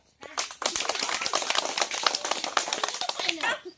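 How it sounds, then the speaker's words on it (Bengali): A group at a women's fun football challenge gives a loud burst of clapping that lasts about three seconds, with voices mixed in. "জোরে একটা হাততালি দাও"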